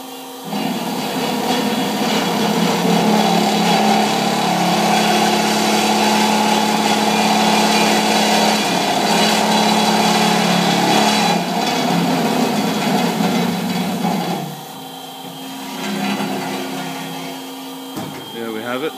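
A metal cutting machine makes test cuts with coolant running, a loud steady machine roar with a grinding cutting tone that drops off near the end and returns more quietly, with speech heard over parts of it.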